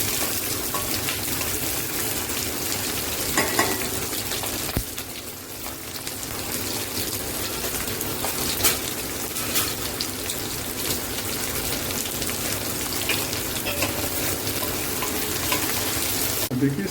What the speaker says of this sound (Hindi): तेल यहाँ पे गर्म हो गया है, हम यहाँ पे अपनी मिर्च को डाल देते हैं।